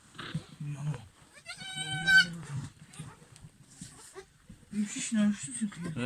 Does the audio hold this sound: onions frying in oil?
no